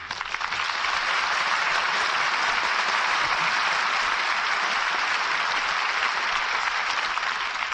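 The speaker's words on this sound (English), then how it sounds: "I think that applause says it all" A radio theater studio audience applauds loudly and steadily for stars Van Heflin and Janet Leigh. The dense, even wash of clapping continues throughout with no voices over it.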